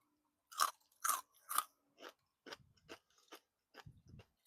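Crunchy fried chicken being chewed up close, a run of sharp, crisp bites and crunches at a steady rhythm, loud at first and then softer, with no talking.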